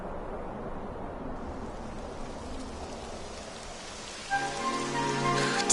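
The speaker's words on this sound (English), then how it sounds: "It would have to go and start raining, wouldn't it?" Rain begins to fall as a soft, even hiss that continues throughout and grows slightly louder, with a tonal sound joining near the end.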